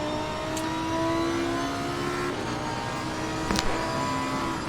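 Onboard Lamborghini GT race car engine at Brands Hatch in Assetto Corsa Competizione, a sustained high revving whine that shifts pitch through the gears, with a brief clunk near the end.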